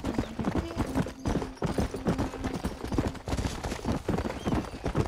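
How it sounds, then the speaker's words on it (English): Horse hooves clip-clop steadily in the video game Red Dead Redemption, a quick, even rhythm of moderate-loud thuds running the whole time, with a faint whinny-like tone mixed in. "That's a horse, so there's no point shooting a horse."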